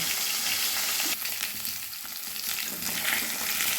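Koi fish frying in hot oil in a kadai over a medium flame, a steady dense sizzle that holds the whole time, close and fairly loud, with no voices.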